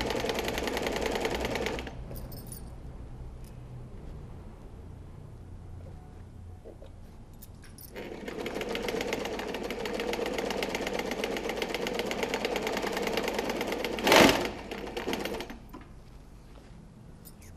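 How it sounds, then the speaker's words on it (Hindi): A sewing machine stitches a pillow cover, turning at the corner. It runs in a short burst, pauses, then hums in a longer steady run with a brief louder clack near the end. "सिलाई लगानी है।"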